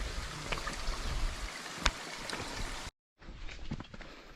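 Water trickles steadily from a pipe beside a mountain stream on a Kudremukh trek, a soft continuous wash with a brief gap before the flow resumes.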